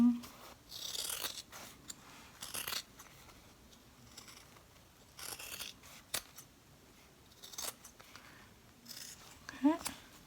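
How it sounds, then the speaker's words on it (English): Heavy-duty scissors snip through excess zipper on an in-the-hoop zipper bag, giving several short crisp cuts spaced a second or two apart, close and fairly quiet. "You need heavy duty scissors because this cuts through that excess zipper."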